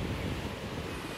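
Beach waves wash in as a steady, loud rush of surf mixed with buffeting wind noise on the microphone, with no voices present.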